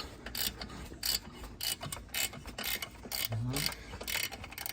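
A ratchet clicks in short bursts while loosening a 13 mm downpipe mounting bolt under a Supra, quiet rapid pawl ticking repeated several times with brief pauses between strokes.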